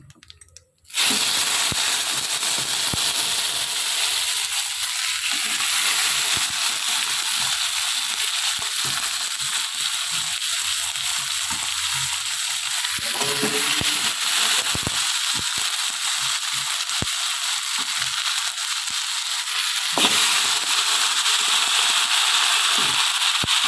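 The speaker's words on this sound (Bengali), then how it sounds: "নিয়ে এবারে মাটনটা আমি এর মধ্যে দিয়ে দিচ্ছি।" Mutton for kosha mangsho hits a hot pan with a sudden burst of loud, crackling sizzle that holds steady and close, with occasional pops and stirring scrapes and no voices.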